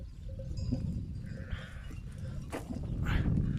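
Young goats and sheep out in a rural field on their first day outdoors, with low rumbling farm noise and scattered bleats that swell toward the end, no speech.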